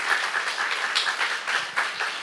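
A church congregation at a Saturday worship service claps in a steady rhythmic beat, moderately quiet, with regular evenly spaced claps and no talk over it.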